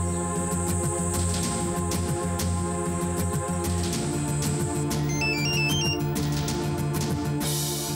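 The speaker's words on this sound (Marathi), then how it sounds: "वाजली घंटी. वाजली सर" A phone ringtone plays continuously, a repeating electronic melody with bright high notes over a steady background hum, fairly close and with no talking.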